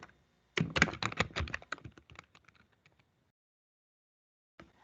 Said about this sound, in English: To add a task, type in the task name,